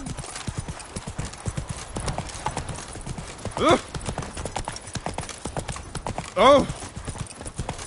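Galloping horse in The Witcher 3 video game, rapid rhythmic clip-clop hoofbeats throughout with a couple of short whinny-like cries, a voice briefly exclaiming over the hooves.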